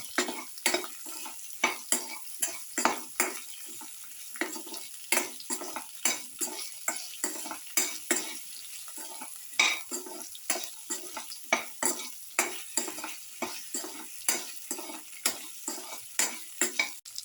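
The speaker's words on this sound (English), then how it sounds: "Mix in the salt." A spoon stirs salt into a garlic, okra, tomato and rice casserole in a pan. The scraping strokes repeat rhythmically and steadily, one after another, close and clear, with a faint sizzle underneath and no voices.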